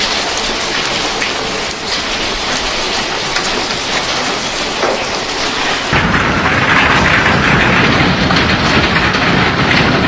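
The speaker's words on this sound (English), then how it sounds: "A ferocious supercell hailstorm tore through southeast Queensland this afternoon" Supercell hailstorm pounding a house in southeast Queensland, a loud, unbroken roar of hailstones drumming on the roof that swells even heavier partway through, with no voices.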